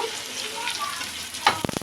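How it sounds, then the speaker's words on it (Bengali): Potatoes hitting hot spice paste in a pan, a continuous crackling sizzle with stirring, then a sharp burst of louder spitting and popping near the end. "পেস্টে ভাজা ভাজা হয়ে গেছে। এখন দিয়ে দেবো আমরা আলু"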